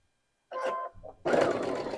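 Sewing machine stitching a quilt block a quarter inch from a drawn line, a short whirring run, a pause, then a louder continuous mechanical hum close by.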